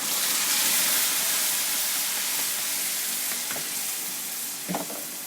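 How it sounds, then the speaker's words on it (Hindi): Tomato paste hitting a hot pan for a restaurant-style chicken masala, a loud, steady broadband sizzle that holds throughout with a couple of soft stirring knocks near the end. "जल्दी से हम इसमें टमाटो की पेस्ट डाल देंगे सारी"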